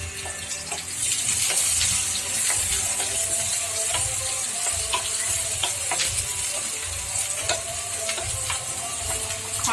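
Onions sizzling as they fry in a pan while soyabean fried rice is cooked: a steady, close, hissing crackle with scattered pops and light stirring scrapes, no talking.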